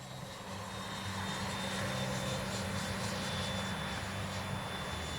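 Freewing F-22 RC jet on its landing approach with gear coming down, a steady, loud, continuous ducted-fan whine and rumble holding throughout with no talk.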